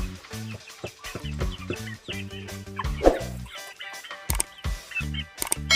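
White Kelso chickens cluck close by, repeated short bursts of clucking and chirps in an irregular rhythm, with a louder squawk partway through and no talking.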